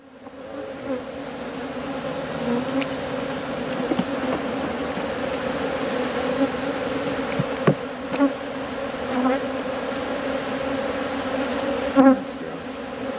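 Honey bees from an aggressive hive swarm in a dense, loud, continuous buzz as they are shaken out of their box, with a few sharp knocks and clatters cutting through the drone.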